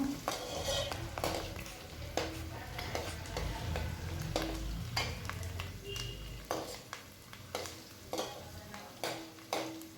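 Hot, frothing pure sesame oil fries in a pan for a village-style ground-masala fish curry, a sizzle under repeated sharp scraping and stirring clatters of a utensil against the pan, with no voices.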